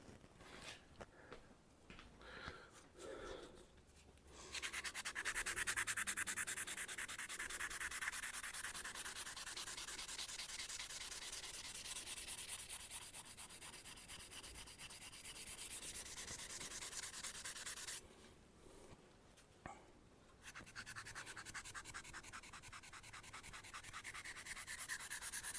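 Worn, light emery cloth rubbed over a rusty Japanese knife blade, giving a close, quiet, continuous rasping scrub with a brief pause midway and a few lighter strokes at the start.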